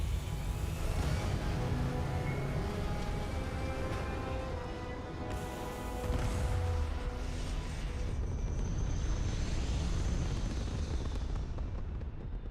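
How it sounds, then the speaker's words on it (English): A spaceship lifting off in the video game Starfield gives a continuous, loud, dense roaring rumble that holds steady throughout with slight surges, and no voices over it. "Prepare for liftoff."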